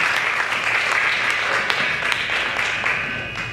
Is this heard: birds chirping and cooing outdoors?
no